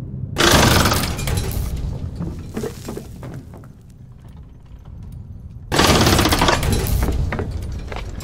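Gear item pickup effect from the video game DARQ, a loud metallic shattering, grinding burst that fades into a quieter rumbling tail before a second harsh burst returns, heard alone.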